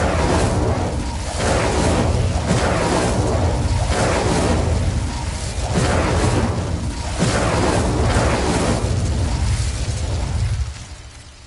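Repeated Incendio fire spells cast in Hogwarts Legacy, loud whooshing blasts of flame that come in several strong surges over a constant roar before the sound falls away at the end.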